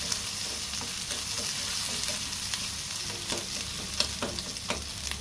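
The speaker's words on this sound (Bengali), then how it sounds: "সবগুলো উপকরণ একসাথে মিশিয়ে আমি খুব ভালোভাবে কষিয়ে নিব" Spices with ginger and garlic are sautéed in a pan, producing a close, steady sizzle with frequent scraping stirs and a few sharp clinks, with no voices present.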